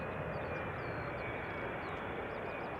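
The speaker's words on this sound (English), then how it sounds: "777 arriving, KLM" KLM Boeing 777-300ER airliner arriving at Amsterdam Schiphol on runway 18R, a loud, steady broadband jet roar that fills the whole moment without break, no voices.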